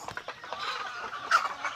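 Native chickens and chicks clucking softly in a steady, busy stream at feeding time, with a slightly louder bird call near the end and no talking.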